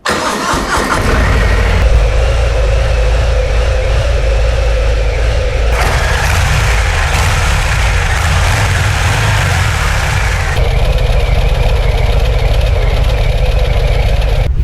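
A Harley-Davidson Heritage Classic 114 V-twin motorcycle engine with about 7,000 km cranks and catches, then settles into a loud, steady, throbbing idle close by, its tone shifting slightly as it runs.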